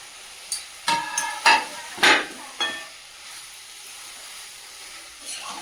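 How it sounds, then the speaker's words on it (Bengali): Chopped capsicum frying in a pan with meat, a steady low sizzle broken by several sharp spatula clatters and stirring scrapes in the first three seconds, then a quieter simmer with no talking. "এর মধ্যে কেটে রাখা ক্যাপসিকাম গুলো দিয়ে দেব।"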